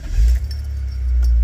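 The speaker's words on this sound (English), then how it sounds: "So let's start the car." A BMW E46 engine is started with the key and settles into a loud, close, low idle rumble, with a faint clink of keys near the start.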